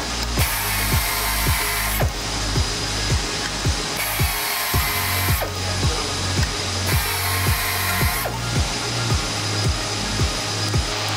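FlexArm A-32 tool chamfering a pierced hole: a steady high motor whine runs under evenly spaced cutting thumps, with the pitch shifting every couple of seconds as passes repeat.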